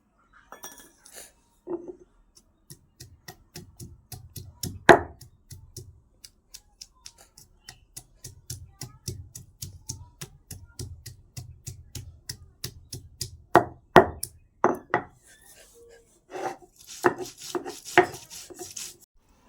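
Ginger and garlic are ground into a paste, heard as close rhythmic strokes and taps repeating in bursts for about twenty seconds, sharper clusters now and then, with no talking.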